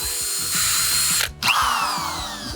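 Small power drill boring holes in carburetor primary throttle blades, short bursts of whirring with ratcheting clicks and a brief pause before drilling resumes, close and clear.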